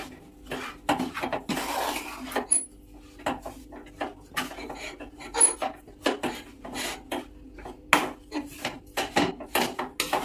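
Flaxseed ladoo mixture being mixed by hand in a vessel, giving irregular scraping and rubbing strokes with light clinks of utensil against the pot, close and moderately loud, without talk.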